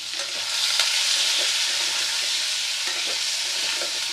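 Potato and eggplant pieces, salted and sprinkled with turmeric, fry in an uncovered pan over low to medium gas, producing a constant, even sizzle with faint stirring bumps and no talk.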